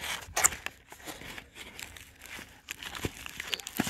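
Bubble wrap crinkles and rustles up close as it is pulled off boxed Disney Twisted Wonderland merchandise, in uneven bursts with short pauses.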